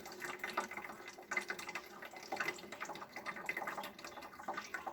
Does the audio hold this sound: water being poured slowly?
yes